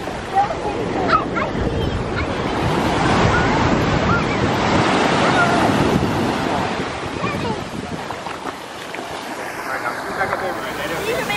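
Ocean surf breaks on a Gulf Coast beach in Destin, Florida, a broad continuous roar of waves swelling and receding, mixed with gusty wind buffeting the microphone.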